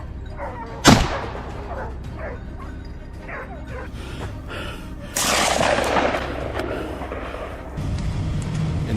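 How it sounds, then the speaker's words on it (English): A single loud, sharp gunshot during a wild boar hunt cracks out near the start, followed by dogs barking and yipping in the background as the outdoor ambience swells. "a decisive gunshot rang out"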